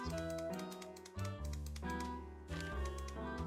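Typewriter keys clacking in a Nancy Drew video game, a series of sharp mechanical clicks and taps in uneven bursts, close and clear over soft background music, with no speech.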